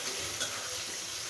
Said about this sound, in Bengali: দিয়ে দিলাম কচুগুলো দিয়ে ভালোভাবে কষিয়ে নিচ্ছি